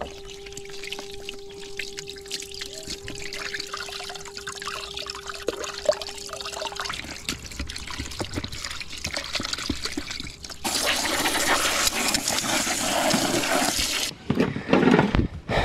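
Fresh bluegill fillets are rinsed under running water: a steady, close rush of water lasting about three seconds after a quieter stretch of faint handling noises.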